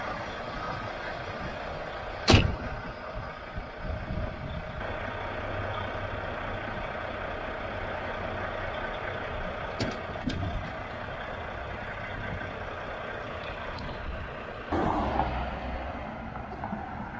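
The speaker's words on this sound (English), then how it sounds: "Now that guy's moving a box truck right now." A box truck being moved on a nearby street gives off a low, steady engine rumble that stays faint and constant throughout, broken by a few brief clanks and knocks.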